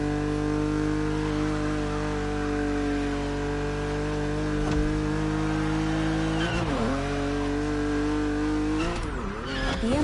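A BMW Z roadster races in The Crew Motorfest, its engine droning steadily at high revs, with brief gear shifts and tire squeals as it corners, loud and close throughout.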